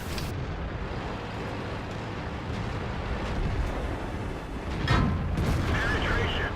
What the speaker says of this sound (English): He's shooting APCR.